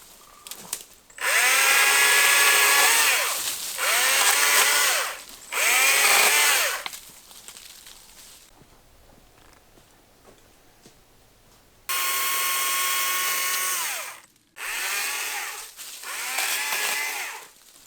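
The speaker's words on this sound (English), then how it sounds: "I've got 1 bar left on this chainsaw battery, so I need to get moving and get this clear" A battery chainsaw whines through wood in several separate bursts, loud and close, with a quiet pause in the middle before cutting resumes.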